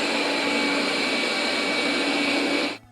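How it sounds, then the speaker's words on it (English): A Eufy RoboVac G30 Hybrid robot vacuum runs at maximum power, peaking around 67.6 dB, with a steady, loud whooshing roar that cuts off abruptly at the end. "the noise level is standard for a robot vacuum cleaner"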